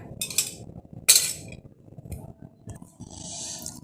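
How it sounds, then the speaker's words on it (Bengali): A knife cuts through a boiled egg in a few short bursts, with metal clinking and scraping against a dish between quieter pauses. "এই তো আমি একটু ছুরি দিয়ে একটু কেটে দিব ডিমটা"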